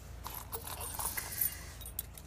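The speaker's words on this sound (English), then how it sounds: "I do think the noise is good with the keys." A ring of keys jingles and rattles in short metallic bursts, close by, with a soft steady background hiss.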